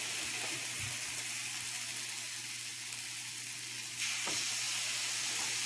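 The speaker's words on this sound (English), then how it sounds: "And then we're going to push it right on top, and you can hear it sizzle." Egg-soaked French toast pieces sizzle in a frying pan, a steady close hiss that swells slightly louder toward the end.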